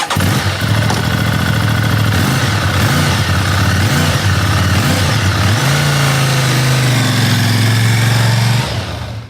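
An Aprilia RS sports bike engine fitted with an Akrapovic carbon accessory silencer runs loud and close, with a steady rumbling idle that rises into a higher, sustained rev before cutting off.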